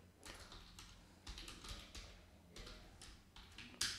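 Someone types on a computer keyboard in quiet bursts of soft key clicks, with short pauses between runs and a sharper tap at the end.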